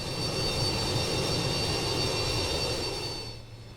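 Simulated BAe Avro RJ100 jet engines spool up in X-Plane 11, a steady broadband roar with a high whine that holds loud and even before easing off near the end, with no talk over it.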